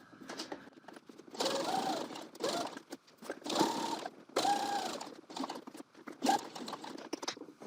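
A domestic sewing machine stitching a coat pocket bag: whirring runs of rapid stitching in several bursts with short pauses between, close and moderately loud, with no speech.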